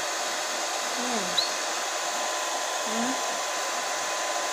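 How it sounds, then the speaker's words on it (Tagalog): A blower dries a small pet bird after its bath, giving a loud, steady whirring drone throughout with a couple of faint, brief chirps above it. "Masarap ma-blower."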